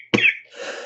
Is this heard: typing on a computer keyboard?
no